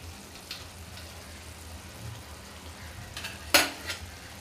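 Chicken kheema sizzles and is stirred in oil in a pan after fresh coriander goes in, a soft steady frying hiss with a few light scraping clinks of the spoon, the sharpest one about three-quarters through.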